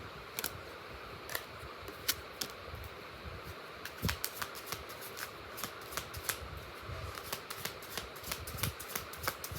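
Tarot cards are shuffled close up in a quiet room, giving a steady, soft riffling patter broken by sharper snaps and flicks at irregular intervals, with no talk over it.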